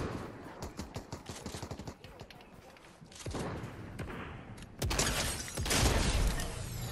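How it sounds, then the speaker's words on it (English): Rapid gunfire from both sides in a Fortnite match: bursts of automatic shots crackle in quick rhythm, then heavier, louder volleys and blasts build toward the end, with no clear talk over them. "we got shooting from both sides"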